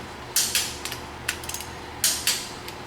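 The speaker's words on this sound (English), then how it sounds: "Torquing them down to 35 pounds." A torque wrench tightens the dies of a Big Blu power hammer down to 35 pounds, giving several sharp metallic clicks in small clusters, close and moderately loud, with no talking.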